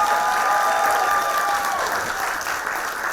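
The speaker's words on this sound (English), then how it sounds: "how about we give them a round of applause and all the finalists?" Loud, dense applause from an award show audience for the finalists, continuous clapping, steady then easing slightly toward the end.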